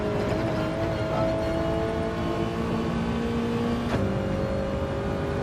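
A Toyota 86 Gr.4 race car engine in Gran Turismo 7 at the Kyoto Miyabi track holds a steady, loud drone that rises in pitch, then drops sharply at one point like a gear shift before climbing again.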